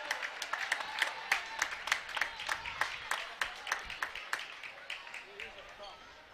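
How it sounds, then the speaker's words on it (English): Fans in the stands and the Wayzata bench at a high school girls' basketball game clap in a steady, rhythmic pattern of sharp claps with a murmuring crowd underneath. "A little bit of a rise cheer from the Wayzata bench along with some of the fans in the stands here tonight"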